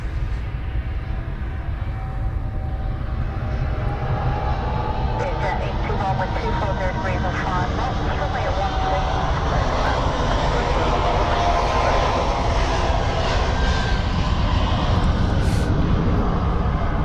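An airliner in All Black livery rolls along a runway at Melbourne Airport, a steady broad engine roar lasting the whole stretch at moderate distance, with people talking over it.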